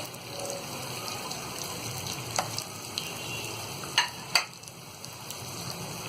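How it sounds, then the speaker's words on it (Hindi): Chopped onions frying in oil until golden, a soft steady sizzle with a few sharp crackles and spatters, quiet and close with no voices. "और इसे हम हल्का गोल्डन ब्राउन होने तक तलेंगे।"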